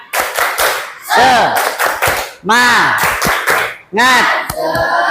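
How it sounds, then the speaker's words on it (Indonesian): Students in a classroom perform a rhythmic spirit clap routine, groups of sharp, loud hand claps alternating with shouted chant phrases in unison, close and energetic. "coba kita tepuk semangat dulu"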